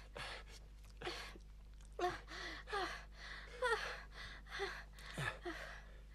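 Several quick, ragged breaths and gasps from out-of-breath people after a rescue effort, close and fairly quiet, coming in irregular bursts about once a second with no talking over them.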